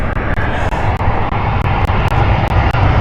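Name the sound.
British Airways airliner from Warsaw arriving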